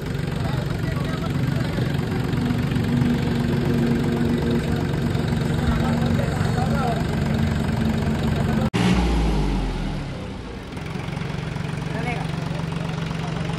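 A new Swaraj tractor's diesel engine runs steadily after starting, a loud continuous idle throughout, briefly dipping and settling partway as a voice talks over it.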